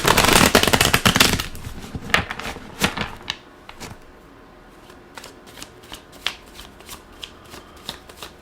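A Field Tarot deck is riffled and shuffled close by. It opens with a dense burst of rapid card flutter, then breaks into scattered crisp taps and slaps as the cards are squared and cut.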